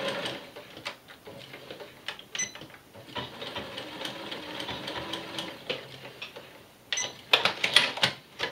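A sewing machine runs a reinforcing stitch along a pinked seam allowance, a quiet mechanical whir with steady rapid ticking that speeds up near the end.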